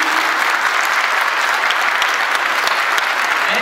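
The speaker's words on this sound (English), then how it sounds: "so do not let the claps die for a while. Keep on clapping, please." Steady, dense applause from an audience at a corporate training session in Jaipur, sustained and close, with no voices over it.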